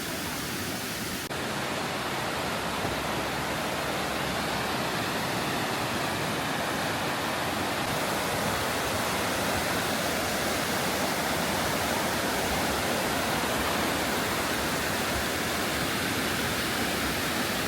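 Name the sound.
small river stream flowing from the waterfall, Jiuzhaigou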